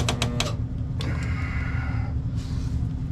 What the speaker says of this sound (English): So this is a spot welder.